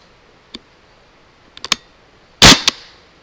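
A CO2-powered BB gun fires a few sharp, close pops at uneven intervals, with one louder, longer burst of hiss near the end, each shot standing alone against quiet background.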